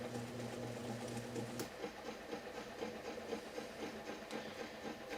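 Motor of a 1971 Hunter ceiling fan, model 22046, starting up: a faint, steady low hum with a soft mechanical whir and light hiss, quiet and close, with no talking.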